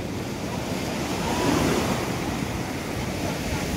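Sea waves wash onto the rocky shore of Devgad beach near a temple, a continuous roaring surge that swells midway, mixed with wind buffeting the microphone. No one speaks.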